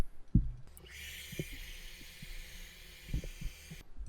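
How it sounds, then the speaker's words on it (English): A steady airy whoosh of a hairdryer blows for a few seconds over a freshly painted fishing lure, starting after a soft thump and cutting off at the end. "I wanted to hit it with the hairdryer first."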